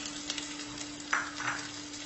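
Onions and curry leaves frying in a pan with a soft, continuous sizzle, quiet and close, with a faint stir or crackle partway through.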